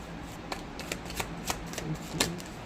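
Tarot cards are shuffled close by, giving a quiet, continuous rustle broken by a series of crisp flicks and riffles at an uneven rhythm.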